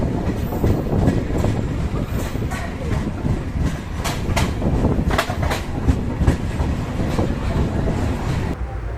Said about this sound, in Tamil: அடுத்ததா இப்போ ட்ரெயின் உள்ள என்ட்ராவது திருப்பூர் ரயில்வே ஸ்டேஷன்